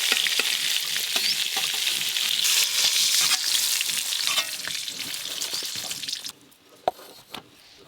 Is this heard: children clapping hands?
no